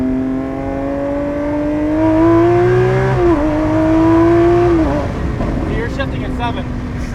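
Lamborghini Aventador SVJ Roadster, a 2022 model, revs loudly with a rising engine tone that dips briefly at a short shift and then climbs again, heard up close from the cabin.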